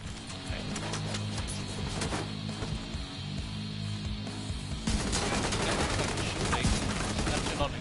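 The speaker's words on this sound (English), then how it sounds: "Shooting." Rapid bursts of automatic gunfire in The Division 2 during a hard-mode Summit floor fight, loud and continuous, with volleys overlapping throughout and growing denser in the second half.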